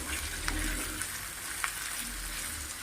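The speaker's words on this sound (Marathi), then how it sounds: "आता हे तेलावरती परतून घेऊया" Vegetables sauté in hot oil in a pan for mixed veg bhaji, giving a soft, steady sizzle with faint stirring scrapes, close but fairly quiet.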